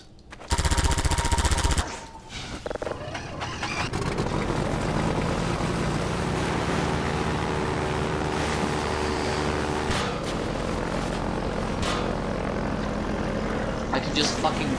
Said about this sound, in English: I can just fucking kill the hunter chopper like that